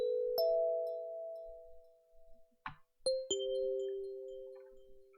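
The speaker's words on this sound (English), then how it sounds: "So it's kind of just like a little bell sound, and this is what it sounded like before I added some effects to it." A small bell-like synth preset with no effects added plays a few clean, sustained pitched notes with sharp attacks, dry and fairly quiet.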